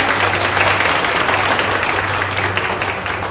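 Loud crowd applause at a Thai direct-sales event, a thick continuous patter of many people clapping close by, holding steady for a few seconds.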